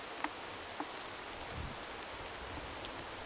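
Steady rain patters on a tarp over a rainy bivouac camp, a quiet continuous wash broken by a couple of sharper individual drop hits, with no talking.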